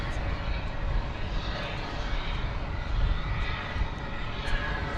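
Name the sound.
United Airlines airliner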